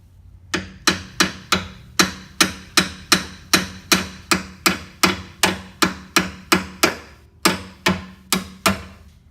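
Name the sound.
hammering with a small hammer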